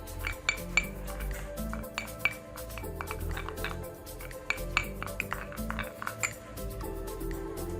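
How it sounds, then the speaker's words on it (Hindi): A spoon stirs a multani mitti face pack in a bowl, giving repeated light metallic clinks and scraping taps against the dish at an uneven rhythm, close by, over faint background music. "अब मिक्स करूँगी।"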